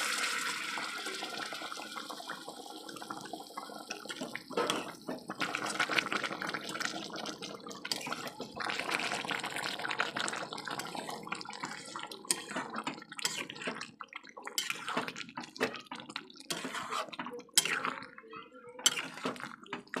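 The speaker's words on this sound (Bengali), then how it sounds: "সামান্য পরিমাণে গরম জল অ্যাড করে দিলাম" Hot water poured into a pan of chicken kosha, giving a steady watery pour and splashing with bubbling and drips throughout, close and moderately loud.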